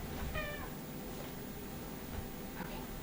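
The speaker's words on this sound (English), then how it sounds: "So that's the fat cat." A house cat meows once in a short rising-falling call, fairly close but faint, over steady room hiss with no other sounds.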